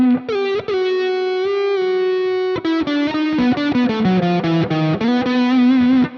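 Distorted electric guitar plays blues licks over minor scales, a run of sustained notes and bends, then a quicker series of picked notes, loud and unaccompanied.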